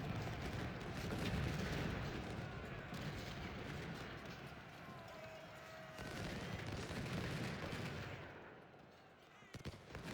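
Distant artillery and musket fire in a Civil War strategy game battle at Stones River, a continuous rumbling barrage with scattered reports, fading slightly near the end, under faint talk.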